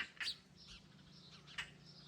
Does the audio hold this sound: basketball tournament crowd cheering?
no